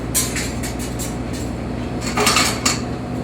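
Cutlery clinks and rattles as someone rummages through a drawer for a big serving spoon while cooking classic meatballs, with several sharp metallic clatters against a steady low kitchen hum.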